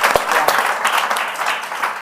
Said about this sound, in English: can we just give Universal Pictures a round of applause?